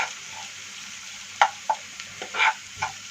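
Capsicum, onion and ginger-garlic paste sautéing in a pan under a soft frying sizzle, with several distinct scraping stirs of a spatula punctuating it at close range and no talk.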